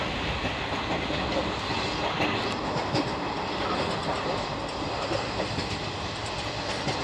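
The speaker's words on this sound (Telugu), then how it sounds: "ఇప్పుడు ట్రైన్ చూసారంటే బండి ఎంతలా కొడుతున్నాడు" A train runs fast after leaving Rayagada station, a loud, dense, continuous roar of wheels and wagons with faint rhythmic clatter, heard from on board with no talking.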